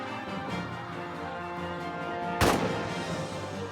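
A single sharp report of gunfire in a WWI trench warfare game, bursting out loud over a steady hum of low ambience partway through, with a brief rumbling tail.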